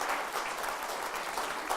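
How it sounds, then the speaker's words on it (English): Audience applause at a Holocaust Memorial Day event in Manchester, a steady wash of clapping from a room full of people, fairly faint and continuous throughout the short stretch. "So please, another round of applause."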